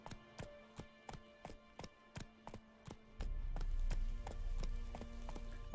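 Roach, a horse in The Witcher 3, gallops with steady clip-clop hoofbeats close by, a rhythmic run of about a dozen strikes before a low rumbling wash swells beneath the later steps.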